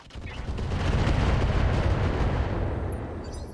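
Heavy mech weapons from RogueTech fire on a Warhammer 2C, a dense rumbling barrage of booms and blasts that swells and holds loudly for a few seconds before easing.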